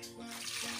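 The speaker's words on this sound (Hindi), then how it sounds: "अब इसमें इसके लिए हम एक जग पानी ले रहे हैं" Water poured from a jug into a cooking pot while making a herbal kadha, a short splashing, gushing pour of moderate loudness with no voices.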